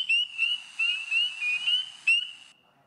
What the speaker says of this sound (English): the spring peepers came out early